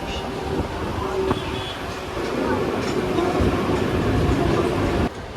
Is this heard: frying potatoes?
no